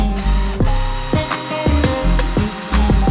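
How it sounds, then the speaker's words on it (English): A power drill boring a hole in a car bumper to mount a quick release, loud and close, with a series of short whirring bursts as the trigger is squeezed and released about every half second. "So let's get into drilling."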